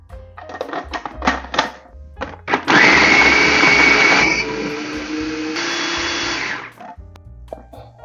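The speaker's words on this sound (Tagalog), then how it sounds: "At ang ating luya, sama na rin natin ang ating bawang. Yan, i-grind natin silang lahat." An electric blender grinds ginger and garlic with carrots for pork and shrimp siomai filling, a loud whirring burst that runs for several seconds and shifts pitch midway, framed by brief clicks and knocks before and after.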